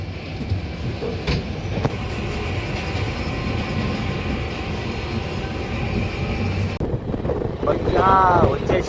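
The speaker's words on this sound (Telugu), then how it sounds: "ట్రైన్ స్టార్ట్ అయింది" Passenger train running from Secunderabad toward Vasco da Gama, a steady broadband rumble of wheels and carriage with wind buffeting throughout, a brief sharp clatter near the start and a rising whine toward the end.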